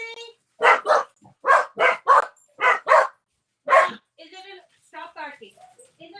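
A pet dog barks in sharp, loud bursts about seven times in close succession, followed by softer whimpering yips, with a person talking nearby.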